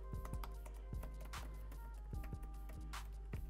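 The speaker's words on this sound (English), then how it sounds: "As you can tell, I'm just typing away." Rapid, light typing on a keyboard used with a Samsung Galaxy Tab S8 Ultra, a run of soft clicky keystrokes at an uneven rhythm over a low steady background hum.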